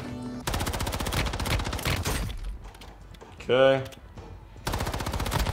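Dual SMGs fire in rapid, continuous bursts in the mobile shooter Warzone Mobile, loud and close, with brief pauses between strings of shots. A player speaks briefly over the gunfire.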